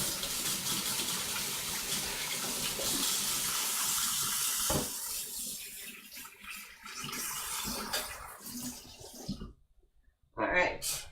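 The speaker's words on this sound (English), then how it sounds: "So now I have to wash my hands." Water runs from a kitchen tap while hands are washed, a loud steady gush that shifts and splashes, cuts off near the end, then briefly bursts on again; speech is heard faintly underneath.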